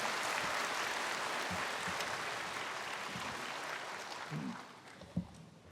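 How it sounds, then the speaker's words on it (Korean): Church congregation applause during a baptism testimony service, a moderate, steady wash of clapping from a large room that fades slightly, with a brief thump near the end. "나오실 때 박수로 우리 환영하겠습니다"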